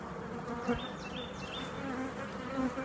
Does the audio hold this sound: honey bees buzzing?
yes